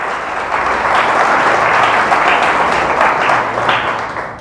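Loud, sustained applause from a church congregation fills the room, many hands clapping together and swelling slightly before easing off near the end.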